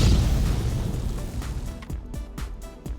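A 50-megaton nuclear blast from the orbital cannon in GTA 5 Online: a loud, sustained low roar that thins out into several sharp, booming bursts near the end.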